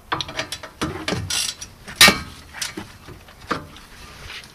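A 7 mm hex key clicks and ratchets against the rear brake caliper bolts of a Ford Mondeo with electric parking brake, in short, uneven bursts, with scraping and a sharp clack partway through, close up.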